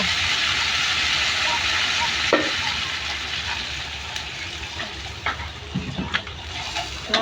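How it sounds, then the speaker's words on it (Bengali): Water hits hot frying spice masala for a fish curry, setting off a loud broad steaming hiss that fades slowly, with a few clanks of utensil against the pan. "ঝোলের পানি দিব"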